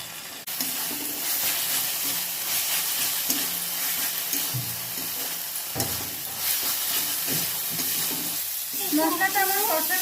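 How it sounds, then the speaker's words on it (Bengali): Spice paste frying with cumin powder and a little water in a pan, a loud hissing sizzle with steam and stirring clatter throughout, close by, a voice briefly audible near the end. "এটাকে আমি কষিয়ে নেবো একটু এক চামচ জিরে গুঁড়ো দিয়ে দেবো"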